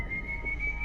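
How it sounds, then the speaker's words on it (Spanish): A single sustained high whistle holds one steady, eerie pitch throughout, faint and alone, standing for the whistle of El Silbón, the ghostly figure of Venezuelan legend. "Este sonido, el silbido del Silbón, eriza y le pone la piel de gallina al más valiente de los llaneros."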